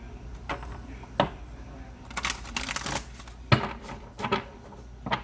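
Tarot cards are shuffled in several quick riffling bursts with sharp snaps and flutters, close up, with a faint voice murmuring in the background.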